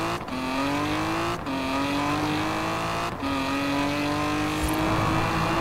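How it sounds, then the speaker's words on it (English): A 1971 Lotus Elan Sprint engine pulls hard at highway speed in a tunnel, its rising harmonic drone climbing in pitch through three gear changes, loud and continuous with brief dips between shifts. "Just hearing that engine."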